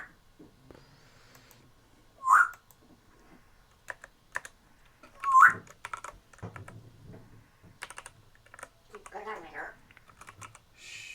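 Fingers type on a computer keyboard while a unit test is written for a ThreeJS and Angular application, with bursts of close, uneven key clicks and pauses between them, plus a couple of louder isolated sounds.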